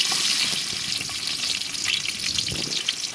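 Onion sizzles in hot oil in a village kitchen pot, a steady loud crackling fry with soft stirring noises mixed in throughout.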